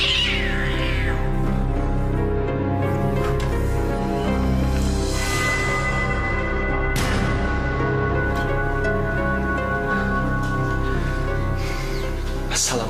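Several cats meowing and caterwauling in a drama scene about a foul smell, loud and overlapping throughout with a dense musical or ambient bed underneath.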